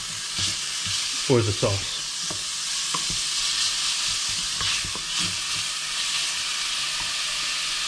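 Ground meat for an American-style ragu sauce sizzles and fries in a hot pan with a constant bright hiss, while a spoon scrapes and stirs in a few short strokes; a voice speaks briefly.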